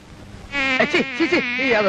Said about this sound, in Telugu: ఈగలు